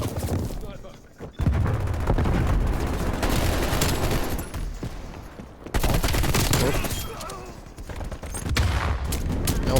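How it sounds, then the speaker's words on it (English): Flashbang grenade going off during a Black Ops Cold War match amid dense, loud gunfire, with sharp bursts and booming impacts packed close together over the battle din. "Nope, that's a flashbang."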